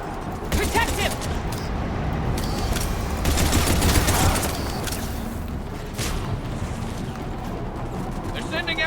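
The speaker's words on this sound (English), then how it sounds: "He's taking fire! Protect him! More incoming!" Dense, continuous gunfire and explosions fill a chaotic battle in the video game Mass Effect 3, loud and sustained, with shouted voices mixed in throughout.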